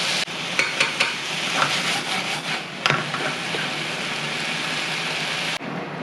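Eggplant being stir-fried over high heat, a steady loud sizzle with repeated scraping and clacking of a utensil against the pan, no voices.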